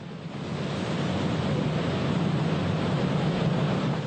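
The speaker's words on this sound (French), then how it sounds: "D'immenses vagues déferlent perpétuellement sur ces côtes." Large ocean waves break continuously along a Hawaiian coast, a loud, steady roar of surf with wind noise, heard alone without voices.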